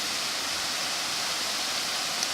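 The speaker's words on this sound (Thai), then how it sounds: "นี่คือน้ำตกภูซางนะครับ" Steady broadband rush of the warm Phu Sang waterfall in Phayao, a constant even roar of falling water with no talking over it.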